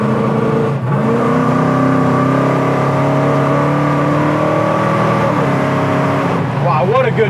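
A 1973 Plymouth Cuda Hemi accelerates steadily, its engine note rising in pitch, then briefly dropping at a gear change before pulling again. The engine stays loud throughout from inside the car, with a short voice near the end.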